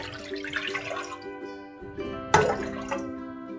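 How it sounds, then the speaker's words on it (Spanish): Water poured from a cup into a cooking pot while making Mexican rice pudding, a steady liquid splash with a sharper burst midway, close and moderately loud. "Aquí en otra olla vamos a poner las tres tazas de agua."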